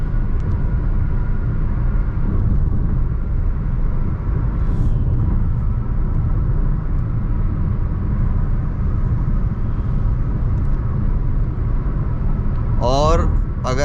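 Steady broadband road and engine drone fills the cabin of a Hyundai Creta N-Line with a 1.5 turbo GDI petrol manual at 100-110 km/h around 2300 RPM on a highway, constant and moderately loud, with a brief click near the end.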